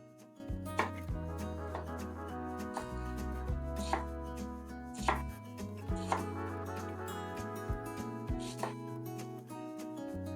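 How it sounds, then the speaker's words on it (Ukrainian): Knife chopping onion finely on a board for a pea soup with smoked meats: quiet, irregular chopping taps over a continuous musical background, with no talking. "Цибулю мы нарезаем мілко."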